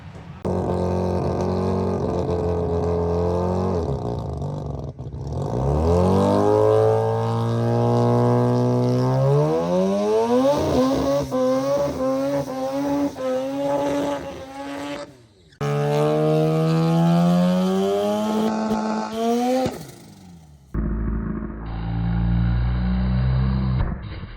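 A Mazda RX7 race car with a rotary engine screams close by as it accelerates down the track, its loud buzzing note climbing through repeated gear shifts, with brief cuts and a lower idle near the end.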